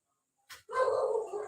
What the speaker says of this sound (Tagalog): may aso na tumatahol